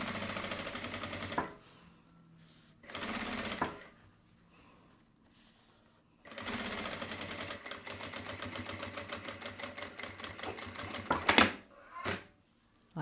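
A sewing machine runs in short bursts while backstitching a topstitch on fabric, close and clear, with quiet pauses between passes and a rapid mechanical chatter in the longer run.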